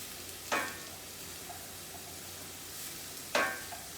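Parsley and green onions softening in a pan give a quiet, steady sizzle, broken by two brief louder scrapes of stirring about three seconds apart.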